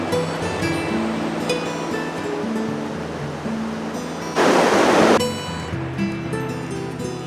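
Surf washes in on Pismo Beach with a steady roar, and one wave breaks loudly and close for about a second before receding, under faint background hum.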